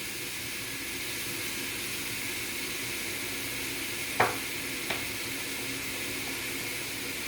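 Soy sauce shrimp noodles stir-frying in sesame oil in a pot, a steady close sizzle with a couple of sharp utensil knocks partway through.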